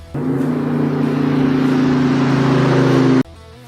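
A 2003 Mustang SVT Cobra Intimidator engine revs hard and holds a loud, steady high-rpm roar for about three seconds before cutting off abruptly.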